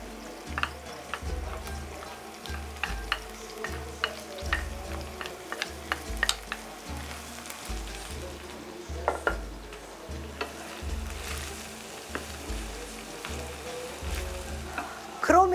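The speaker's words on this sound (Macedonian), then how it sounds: "Кромидот и празот го пржите не повеќе од 5 минути." Onion, leek and rice frying in a pan, a steady close sizzle broken by repeated scraping and stirring strokes as the food is turned over.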